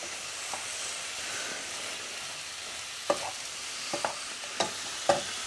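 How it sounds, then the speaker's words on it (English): Bacon and mushrooms fry in a pan with a steady, close sizzle, broken by a few sharp pops and utensil clicks toward the end. "the mushroom and bacon are cooking away nicely"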